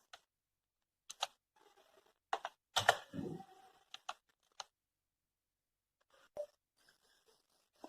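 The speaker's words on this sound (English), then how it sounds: "Let us type something." Keys on a computer keyboard tapped in a few short bursts with gaps between them, close and clear in an otherwise quiet room; no one speaks.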